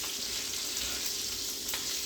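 Beef short ribs sear in a hot pan, giving a steady, even sizzle with a soft crackle throughout; the sound is fairly quiet and close, with no voices.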